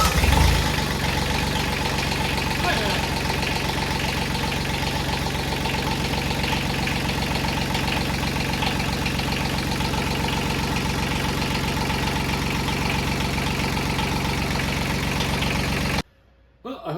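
A Yanmar B12 mini excavator's small diesel engine catches after a short crank and settles into a steady, close, clattering idle that runs evenly before cutting off abruptly at the end.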